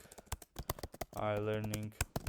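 Computer keyboard keys clatter in quick irregular bursts of clicks while entering text in a GraphQL coding tutorial, close and fairly quiet, with a voice speaking midway through.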